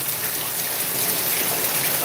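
Steady, heavy rainfall in Mexico, a dense, even hiss of drops pattering on surfaces, loud and continuous throughout with no pauses.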